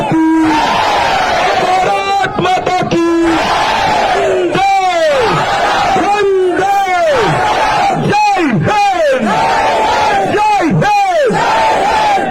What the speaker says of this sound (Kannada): ಒಂದ್ಸಲ ಉಚ್ಚ ಕಂಠದಲ್ಲಿ ಭಾರತ್ ಮಾತೆಗೆ ಒಂದು ಜೈಕಾರ ಕೊಡಿ